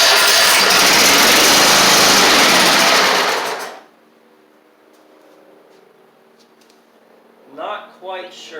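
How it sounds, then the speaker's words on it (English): A Toro Z2550 zero-turn mower engine needing fuel system work runs loud and close with a steady buzzing drone, then cuts off abruptly, leaving a quiet hum and a brief voice at the end. "Still can't tell if it's running on 2 cylinders or not."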